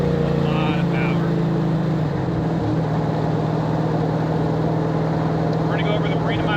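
A 1965 Factory Five Cobra replica car drives along in fifth gear, its engine making a loud, steady low drone up close, with someone talking over it and a brief dip in pitch near the middle.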